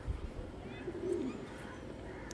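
Low, soft cooing from a pigeon of the original Arshad line, a faint burbling murmur near the middle of the stretch over steady background hum.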